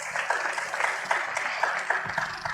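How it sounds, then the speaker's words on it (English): A room of attendees at a judicial seminar on justice for women gives a round of applause, dense continuous clapping at moderate level without pauses. "Can we please give him a round of applause?"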